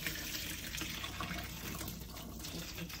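Overnight soaking water drains off red beans, a continuous nearby splashing pour into a sink that runs steadily throughout.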